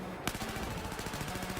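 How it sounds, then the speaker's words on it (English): Rapid gunfire in video game gameplay, dense repeated shots after a sharp onset, loud and heavily compressed into a continuous burst. "You can see the explosions in the gunshots"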